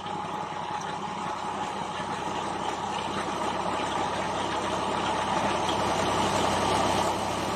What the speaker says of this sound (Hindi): ट्रैक्टर जो है वो अभी चल गया।